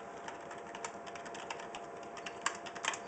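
Typing on a Logitech G510s keyboard with rubber dome keys: a quiet, irregular patter of soft muffled keystrokes at close range, with a few louder presses near the end and no talking.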